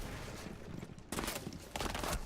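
Gunfire in Rainbow Six Siege during a competitive match broadcast, several bursts of rapid shots cutting in sharply after a quieter stretch, loud and close, with faint commentary murmuring underneath.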